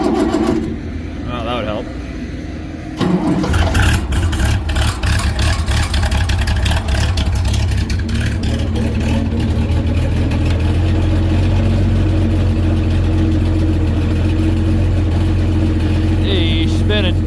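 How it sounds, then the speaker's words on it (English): An International Harvester 686 tractor engine cranks and catches, then runs with a loud, steady rumble close by while someone talks briefly over the start. "Fire her off."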